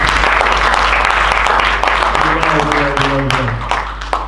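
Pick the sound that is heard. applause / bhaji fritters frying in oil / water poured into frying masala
applause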